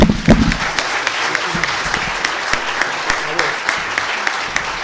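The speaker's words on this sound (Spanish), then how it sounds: "Primero vamos a, según lo prometido y convenido, a liberar a Ricardo Sáenz con un aplauso." Audience applause fills a university lecture hall during a 2017 talk at UCEMA in Argentina: dense, steady clapping from a crowd, loud at the start and then sustained evenly, with a little chatter mixed in.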